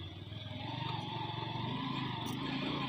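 A motorcycle rides over a rough road with its rear wheel slipping, the engine rumbling loud and steady from close by with a pulsing throb.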